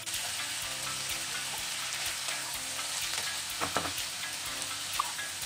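Cauliflower cooking in a pan for an Odia vegetarian thali, a steady soft sizzle and fry with a few faint clinks, no talking.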